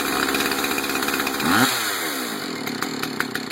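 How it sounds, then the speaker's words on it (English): A chainsaw at high idle with the chain spinning, its engine briefly revving up and then settling back as the trigger is bumped, loud and close with a steady buzzing drone throughout. "Chain is spinning. I'm gonna bump the trigger."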